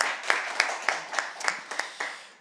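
A small audience applauding a panel guest at an infrastructure modernisation talk, with a handful of distinct, evenly spaced claps standing out over a light background of clapping.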